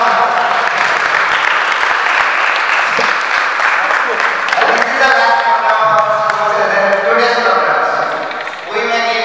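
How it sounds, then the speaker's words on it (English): An audience at a cultural programme in Baliguda gives a standing ovation, with loud, continuous applause filling the room and fading toward the end. "Please give a standing ovation."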